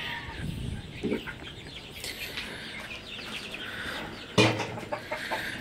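Soft clucking from a large Sonali rooster of about 5 kg over a noisy farmyard background, with a louder squawk near the end.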